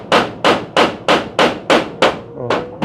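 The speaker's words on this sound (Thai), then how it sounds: "มันสูงเลยมันตอกยากแล้วบ่" Nine sharp, evenly spaced hammer blows drive something in by hand at house construction, each strike ringing loud and close with a slight ringing tail; the last blows are a little softer and muddier.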